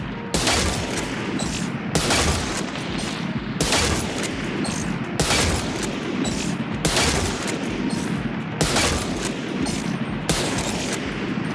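Rapid rifle fire at practice targets in the Valorant shooting range: loud, close bursts of gunshots repeating in roughly regular volleys about every one and a half seconds, with no talking.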